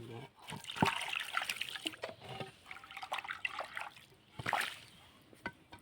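Water trickles and splashes faintly as something is washed by hand, soft irregular drips and pours heard up close while someone talks.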